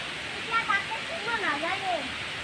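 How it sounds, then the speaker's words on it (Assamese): A river flowing calmly after a flood gives a soft, even rushing hiss in the background while someone talks over it. "এতিয়া চাওক নদীটো কি শান্তভাৱে বৈ আছে"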